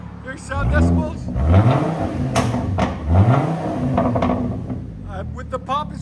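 A 2011 Chevy Colorado pickup with a 3.7L five-cylinder engine and straight-pipe exhaust is revved several times up close, each loud rise followed by crackling pops as it falls back; someone talks between the revs.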